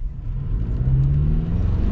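A 2024 Toyota Tacoma SR5 with a turbocharged four-cylinder engine accelerating: a steady, close mid-low engine drone that swells gradually as revs build, with no voices.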